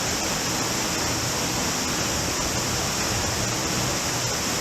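A steady, dense roar of falling water at Dogwood Falls in the Richland Creek Wilderness fills the scene, constant and close, with no voices.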